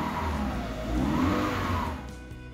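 A car engine revs after its throttle body is cleaned without removal, a close, steady mid-pitched hum that rises in pitch and then drops back toward idle over a couple of seconds.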